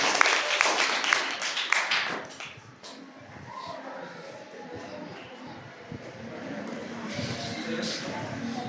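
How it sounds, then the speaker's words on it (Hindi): A studio audience claps for guests on a KBC-style quiz show, with a loud burst of applause that fades after a couple of seconds into quieter room noise and talk. "एक बार हमारे देवान शरण जी और माता जी को जोरदार ताली"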